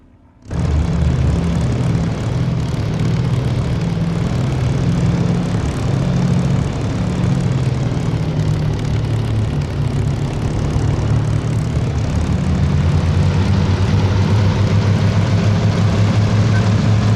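Engine and propeller of a P-38 fighter plane in a multiplayer flight game start abruptly, then hold a loud, steady droning roar with a throbbing low hum that changes pitch slightly over time.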